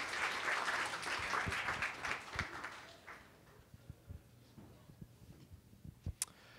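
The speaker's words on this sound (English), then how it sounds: "So give a quick round of applause" A crowd applauds at a startup expo, loud at first and fading after about three seconds into scattered claps and clicks with a faint room background.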